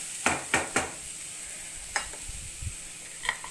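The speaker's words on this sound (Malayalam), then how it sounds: "ഉപ്പിട്ട് കൊടുത്ത് ഒന്ന് ഇളക്കി യോജിപ്പിക്കുക" A spoon stirs salt into broken wheat upma in a pan, giving a few quiet scrapes and taps, three quick ones close together and then sparser ones, over a faint low sizzle.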